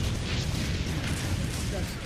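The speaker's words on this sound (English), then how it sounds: "When the Stalin Orgel exploded," A Katyusha (Stalin Organ) rocket barrage explodes on the Kursk battlefield. It sounds like a dense, continuous roar of overlapping blasts and rumble, loud and unbroken throughout.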